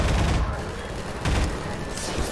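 Dense gunfire during a Half-Life 2 fight, a continuous loud rumble of shots with a couple of heavier bursts, close and crowded.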